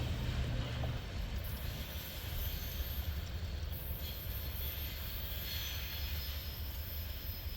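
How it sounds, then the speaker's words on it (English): A Norfolk Southern train rolls steadily past and picks up speed, a dense, continuous rumble of rail cars and wheels with faint squeal, loud and close throughout with no voices. "As that train speeds up"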